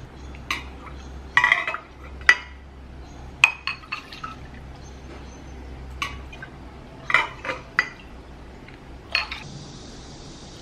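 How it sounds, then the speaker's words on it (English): A cup repeatedly dips into a container to scoop out baijiu, giving scattered clinks of glass and small liquid splashes in uneven bursts, close and fairly quiet, over a low steady background hum with no talking. "Gonna use this cup as well to take out some of the baijiu that's in here"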